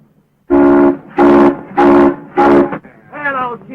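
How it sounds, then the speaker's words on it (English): A steam locomotive whistle in a 1929 Western film sounds four loud, strong blasts in a steady rhythm, followed by a softer, wavering fifth blast. "You blow that whistle again"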